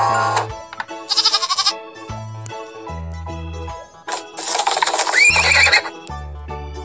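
A horse whinnies twice, loud and shrill, with a short snort between, over a simple repeating electronic musical backing in an animal-sounds game for children.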